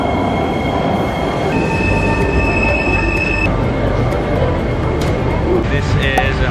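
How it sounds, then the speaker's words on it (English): A Singapore rail train rolls along with a continuous rumble and high squealing wheel tones that rise and fade, heard from inside the carriage at moderate level. "I'm taking the train right now."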